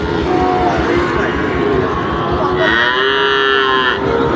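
Cattle at a busy livestock market moo in long, loud, drawn-out calls, one rising over another, against a dense crowd murmur and voices nearby.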